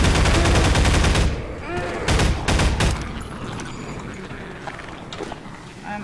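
Gunfire in the video game GMod, a rapid burst of automatic shots for about a second, then a few scattered single shots and mechanical clicks fading into quieter background.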